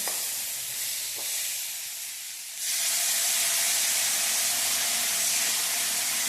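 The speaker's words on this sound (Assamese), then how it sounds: "এতিয়া মই ইয়াত গৰম পানী এড কৰিম" Hot water hits a pan of frying vegetables with a sudden loud hiss and sizzle that swells into a sustained steamy roar, following a quieter stretch of gentle frying.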